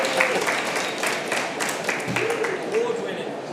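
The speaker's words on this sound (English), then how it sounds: "You could all join me in giving a round of applause for Nick from the Tank Museum" An audience claps for Nick from the Tank Museum at a talk, producing steady, moderate applause with a voice speaking over it throughout.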